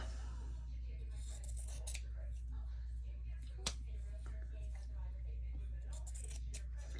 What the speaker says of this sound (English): I want my fabric scissors so I can straighten this out a little bit.